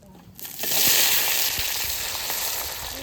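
Dry red chillies, bay leaves and cumin dropped into hot oil left from frying potatoes, setting off a sudden loud, close hiss that holds steady as a dense crackling sizzle.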